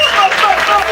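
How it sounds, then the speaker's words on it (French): Applause from an audience at a comedy show forms a dense, loud wash of clapping over one second, with speech-like sounds mixed in. "Un maximum d'applaudissements pour vous."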